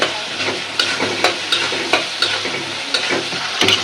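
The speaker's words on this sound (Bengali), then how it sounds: "কত সুন্দর করে ভাজা ভাজা করছি" Prawns sizzle steadily in a hot pan, with regular scraping and clacking as they are stirred and turned. No voices.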